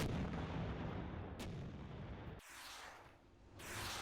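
Mortars pound an exposed radar in a strategy video game, heavy booming artillery blasts rumbling close and loud, with a sharp cut midway as a fresh wave of explosive fire starts.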